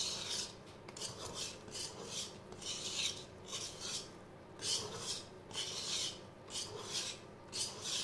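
Sponge cake batter being mixed by hand after milk is added, a steady rhythm of soft rasping, rubbing strokes against the bowl, repeating about twice a second, close and fairly quiet with no talking.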